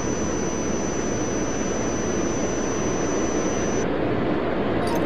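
A jet airliner roars steadily at close range in the airport simulation game Tower! 2011, a broad continuous rumble and hiss with no talk.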